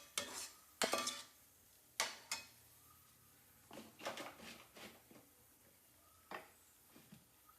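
A spoon scrapes and clinks against the pan as spinach puree cooks in ghee, with scattered stirring strokes and a faint sizzle underneath, fairly quiet and close.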